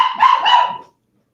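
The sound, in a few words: herd dog barking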